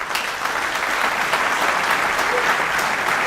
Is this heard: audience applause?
yes